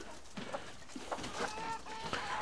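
A silkie hen clucking on a farm, several soft, short clucks scattered over a couple of seconds with steady background noise, close by and not very loud.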